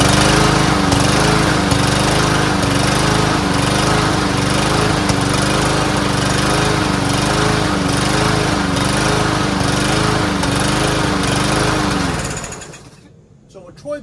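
Small Troy-Bilt TB110 push lawnmower engine, an older machine that had sat unused, runs loud and steady with a rough pulsing idle for about twelve seconds, then cuts off and winds down to quiet.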